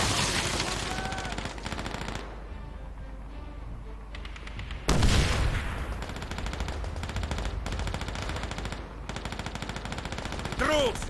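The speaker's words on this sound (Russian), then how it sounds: "Стрельба привлечет его внимание." Rapid machine-gun fire and rifle shots rattle through a World War II battle in Call of Duty: World at War, sustained bursts with a heavy boom midway.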